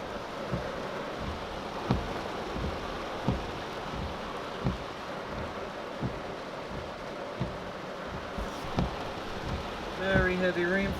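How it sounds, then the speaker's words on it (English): Very heavy rain from a tropical storm rain band falls as a steady broadband roar with frequent sharp drop impacts on nearby surfaces, with some wind and a short tonal whine near the end. "Very heavy rainfall."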